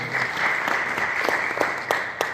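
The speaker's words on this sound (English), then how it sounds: "let's give a round of applause for Marissa" A church congregation gives a round of applause for a woman named Marissa, steady crowd clapping at moderate loudness with a few distinct sharper claps near the end, unaccompanied by talk.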